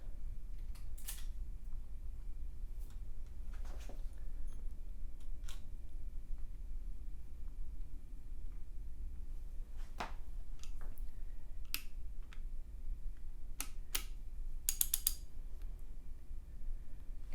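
Lyle tool clamp being tightened on rebuilt engine heads for an LS7 lifter job, heard as faint, scattered metallic clicks and ticks over a quiet background with no talk.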